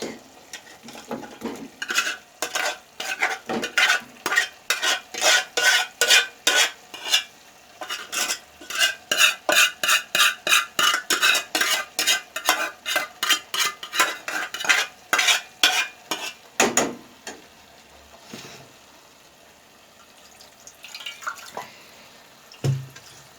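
Meat stirred into spices in a pot gives a long run of rapid rhythmic scrapes and clacks of a spoon against the metal, close and loud, then slows to a few scattered stirs and a soft sizzle.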